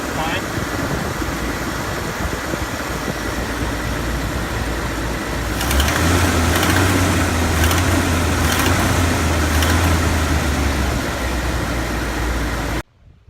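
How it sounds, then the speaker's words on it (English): A 1966 Chevy C10 pickup engine idles after a carburetor kit rebuild, with a slight manifold leak: a loud, steady, even drone close by that thickens partway through and then cuts off abruptly. "I put in a new carburetor kit and it's running"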